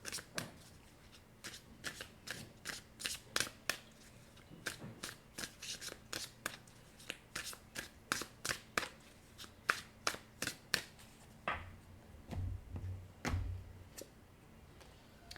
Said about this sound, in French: Je vais aller chercher 4 autres cartes.